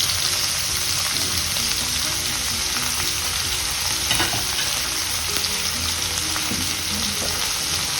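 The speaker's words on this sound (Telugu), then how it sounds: "ఎండుమిర్చి కూడా వేసుకుంటున్నాను ఇందులో" Dried red chillies fry in oil for a beans and dry fish curry, giving a continuous, even sizzle at moderate level with occasional faint spatters and clinks.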